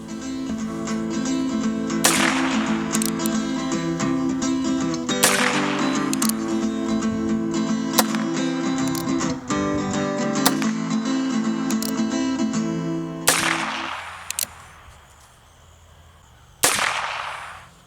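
A sixty-year-old Colt Frontier Scout .22 revolver with fixed sights fires six loud, sharp shots at spaced intervals at a range, each crack ringing out over a steady low background hum.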